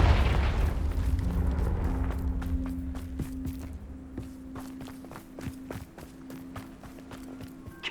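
A Confringo fire spell from the Hogwarts Legacy video game bursts with a loud, deep boom at the opening, followed by a steady run of footsteps across the rest of the scene.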